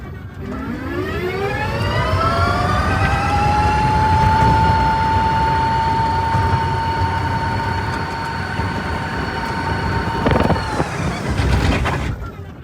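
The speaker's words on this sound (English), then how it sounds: "to drift it, all you have to do is hit the throttle full and just kind of turn" A small car's engine whines upward in pitch while drifting at full throttle, then holds a high, steady rev before cutting off, with some scuffing noise near the end.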